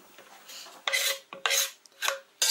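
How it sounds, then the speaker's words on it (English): Sliced mushrooms drop into a pan in a few separate bursts of rough scraping and rattling, close and fairly quiet, with short pauses between them. "So mushrooms goes inside the pan as well."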